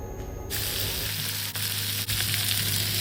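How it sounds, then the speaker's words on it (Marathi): Soaked potato slices fry in hot oil with curry leaves and asafoetida for a Maharashtrian potato dish, a loud, steady, close sizzle that swells after a brief quieter start and runs continuously to the end. "त्यानंतरच हे भिजवलेले बटाट्याचे काप यात टाकून घेणार आहोत"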